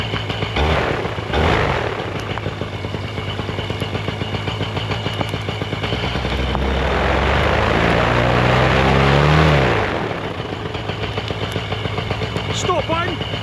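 A paramotor engine running loud and close in a snowy setting, buzzing steadily, swelling in a throttle-up burst midway, then dropping back to idle, with someone talking over it.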